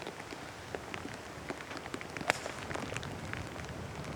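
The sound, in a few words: rain falling on golf course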